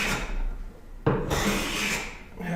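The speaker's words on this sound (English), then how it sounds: "because it's a rough side, you can hear the little bit of chatter there" A wooden hand plane chatters as it rasps across the rough side of a board, giving close scraping strokes with a sharp catch partway through.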